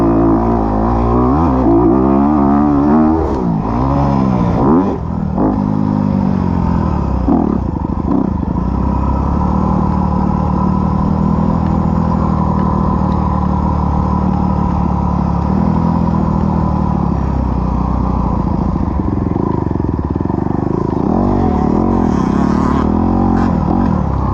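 Motorcycle engine held in second gear on a freestyle ramp at Breezewood, droning loud and close throughout with repeated revs and rising pitch sweeps, no talk.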